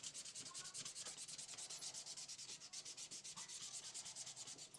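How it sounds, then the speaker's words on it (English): Rapid rhythmic scratching of hand sanding on a wooden knife handle, steady back-and-forth strokes continuing throughout, close and fairly loud. "Hand sanding is just, you know, the ultimate as far as getting a good feel on your handles."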